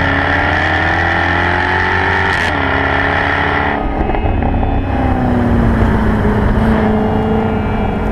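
A Jaguar V8 F-Type sports car engine pulls hard on a mountain road in Romania, a loud, sustained throaty roar that rises and falls with gear changes, close and continuous.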